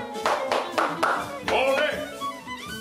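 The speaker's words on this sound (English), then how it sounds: "In a sporting context, such as football, we can use this clap." Hands clap a rhythmic football-style chant clap, a run of sharp separate claps in a spaced pattern, with a voice faintly underneath.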